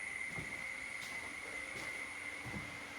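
The Mangalore to Surat express train, number 19058, runs steadily, its low rumble and faint rhythmic wheel thumps carrying quietly through a nearly empty compartment under a constant high whine.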